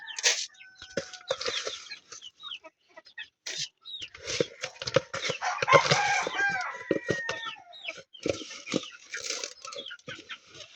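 Pet chickens in their coop clucking in short irregular bursts, with a rooster crowing in the middle, close and fairly loud over a quiet yard.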